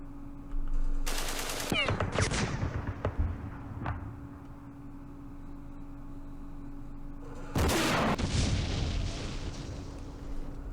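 Recoilless rifle fire in a Middle East war strategy game, two loud sharp blasts several seconds apart, each followed by a rumbling tail and crackle, over a low steady hum.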